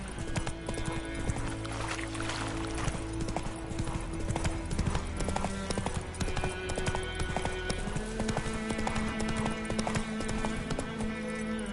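Horse hooves galloping in the video game Witcher 3, a steady rapid clip-clop running throughout under dense game music and ambience.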